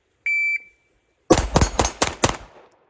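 A shot timer gives a short electronic beep, and after a brief pause an RIA 5.0 pistol fires five rapid, loud shots in a quick, slightly uneven string at an outdoor range, ending in a short fading echo.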